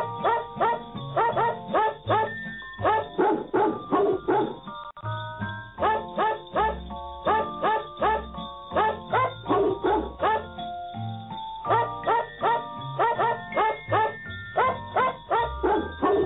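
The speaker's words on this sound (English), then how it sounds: "That's my famous barking dog" A dog barks in a steady, rhythmic run of sharp, loud barks for the whole stretch. The band-limited, radio-like sound suggests a repeated or looped recording, with no talk over the barking.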